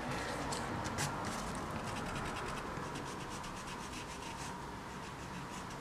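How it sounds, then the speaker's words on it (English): A rubber eraser rubbing out the inside of a pencil-drawn letter on paper, a close, continuous dry scratching with quick rhythmic back-and-forth strokes, steady in loudness throughout and with no voice over it. "use the rubber to kind of rub out the inside of the letter"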